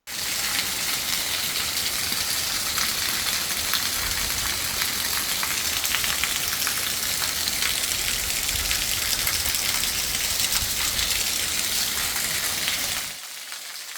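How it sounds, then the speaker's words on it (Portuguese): Rain pouring down at a house in rural São Paulo's Mato Dentro, a dense, even hiss of drops on surfaces that holds steady and loud, then drops off sharply near the end. "mostra pra gente essa chuva aqui do Mato Dentro, interior de São Paulo, de ontem, Gleidson."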